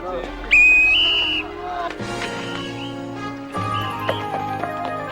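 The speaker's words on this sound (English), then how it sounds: "Blows this whistle" A shrill whistle in a 1994 film sounds over a busy soundtrack of music and hoofbeats, loud and clear at first before the mix shifts.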